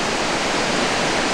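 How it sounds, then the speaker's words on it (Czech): Rapids on the Sjoa river in Norway rush loudly and continuously, a dense unbroken roar of whitewater that fills the whole clip with no voices. "Tak tohle to jsme u řeky Sioj."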